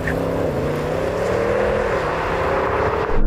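An Audi S8 pulls hard off the line in a drag race, its engine note a loud continuous roar that climbs steadily in pitch with a brief gear-change dip, close and sustained throughout.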